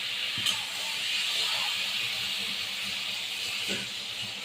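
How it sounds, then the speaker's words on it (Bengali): Water poured into a hot pan of fried potatoes and spices for a katla fish and potato curry sets off a loud, continuous steamy hiss, with a couple of faint knocks underneath. "সুন্দর করে ঘুম আলু ভাজা হয়ে গেছে এবার আমি জল দিয়ে দেবো"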